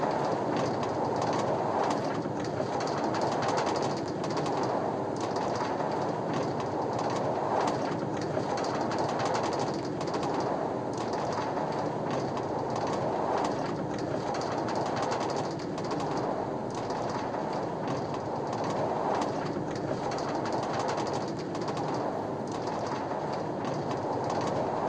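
A cart rolls steadily along track rails with a continuous rumbling, clattering roar that stays even and close throughout, with no voices.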